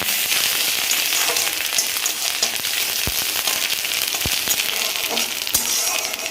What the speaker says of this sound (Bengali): আর দেখো এর মধ্যে এই যে দিয়ে দিচ্ছি আদাটা, দিয়ে একটু ভালো করে নাড়িয়ে দেবো